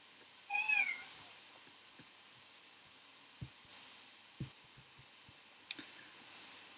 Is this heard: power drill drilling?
no